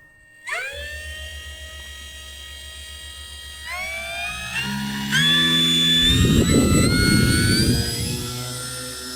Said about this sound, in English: Today I will do another flight on my Aros RC Tecnam 2010 with floats.